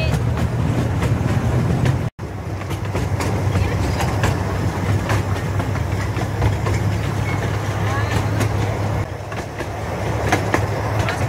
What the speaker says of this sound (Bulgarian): По-бързо бяга от другите влакчета.